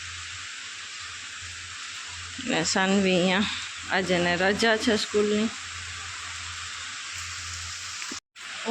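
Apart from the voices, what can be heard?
heavy rain falling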